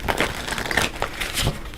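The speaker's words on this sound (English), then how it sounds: "These cards will shuffle." Tarot cards being shuffled by hand, a close, papery rustle and riffle that surges in a few uneven waves over nearly two seconds, with no talking.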